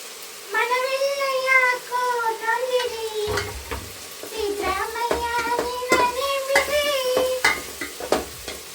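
Fenugreek dal sambar ingredients being fried and stirred in a pan: a steady sizzle with repeated spoon clinks and scrapes throughout, partly masked by a high, tonal voice-like sound.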